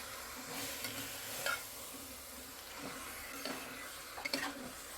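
Chicken stirred into roasted masala in a pan: a continuous sizzle with scraping stirs and light clinks of the utensil against the pan, heard alone.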